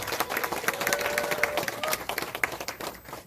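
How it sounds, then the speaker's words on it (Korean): An audience at a book concert in Gwangju claps in a dense, steady round of applause lasting a few seconds, with a faint whistle rising through it. "고맙다는 의미로 큰 박수 보내주시기 바랍니다."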